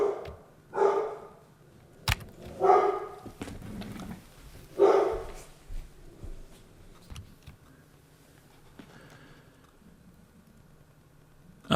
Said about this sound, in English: the package that the dog was just barking at